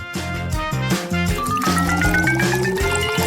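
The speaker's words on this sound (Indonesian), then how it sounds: "Ayo kita tuangkan." Liquid pours into a cup as part of a hot-versus-cold food challenge, its pitch rising steadily as the cup fills. Background music plays throughout, and the pour stays clear and fairly close.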